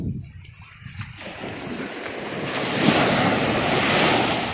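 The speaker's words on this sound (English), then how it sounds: "the wind is blowing offshore out to sea" Sea waves washing ashore on calm, lake-like water while an offshore wind blows out to sea; continuous surf wash mixed with gusty wind rumble on the microphone, steady and fairly close, with no voices.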